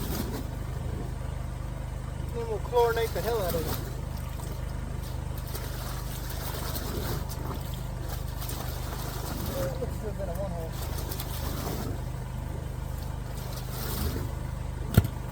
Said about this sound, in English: Compressor's blowing good.